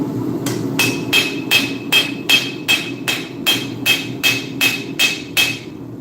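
Hammer strikes on hot steel at a forge, about fourteen sharp metallic blows in an even, steady rhythm with a ringing overtone, close and loud over a low background hum.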